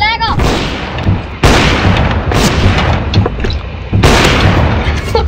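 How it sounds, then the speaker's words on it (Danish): Repeated loud gunfire bursts from a video game, several sharp booming shots spread across a few seconds under ongoing gameplay noise. "han skudt et skud, og så missede han, og så skyder jeg, og så rammer jeg"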